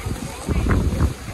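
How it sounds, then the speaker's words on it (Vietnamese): Strong wind gusting and buffeting the microphone at an outdoor housewarming party, a loud low rumble that swells through the middle and comes and goes in irregular gusts. "Hôm nay trời gió rất là to luôn mọi người"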